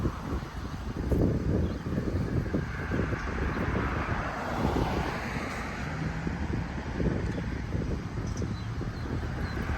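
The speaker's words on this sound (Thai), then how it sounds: "เบิ่งลมนี่พ่อแม่พี่น้องเห็นบ่" Hot wind blows outdoors through trees during fruit picking, a continuous rushing gust with microphone buffeting that swells and eases across the whole stretch.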